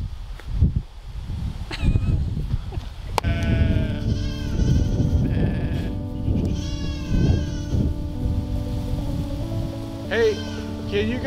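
Several goats bleating repeatedly on a farm, loud wavering cries near and far, overlapping with people talking and general outdoor noise throughout.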